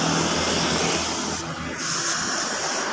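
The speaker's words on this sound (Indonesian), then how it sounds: "ini kita semprot clear tipis-tipis saja seperti ini" A spray gun lays a thin clear coat over candy-red paint on a Honda Beat motorcycle, giving a steady loud airy hiss with one short break before the spray resumes.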